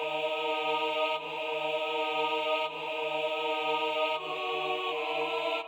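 Bright, steady choir pad from the Floristan Awe Choir sound font, a held chord with soft pulsing low notes beneath and slight changes every second or so, loud and continuous without talk.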